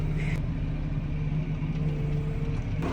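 A tractor engine idles in a steady, low, continuous rumble with a constant hum, close and unchanging, and no talking.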